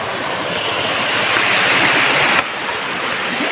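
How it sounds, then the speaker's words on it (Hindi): River water rushing below a village riverbank, a steady broadband roar of flowing water heard up close and fairly loud throughout, with no talking. "नीचे पानी बह रहा है"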